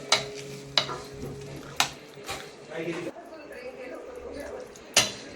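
A spoon stirs freshly cooked dal khichdi in a pot, making soft scraping and mushy swishing sounds punctuated by several sharp clinks of metal against the rim, with quiet kitchen background between strokes.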